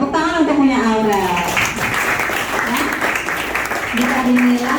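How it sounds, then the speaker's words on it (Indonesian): A classroom of students applauds a classmate's work, a steady wash of clapping that runs through the whole stretch while a teacher's voice is heard over it. "Tepuk tangan untuk punya Aurel."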